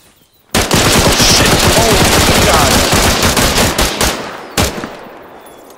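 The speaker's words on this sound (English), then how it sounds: "I unloaded a whole damn mag." A machine gun in Arma 3 empties a full magazine in one loud, continuous burst of close rapid fire lasting about four seconds, then a final lone shot rings out and fades.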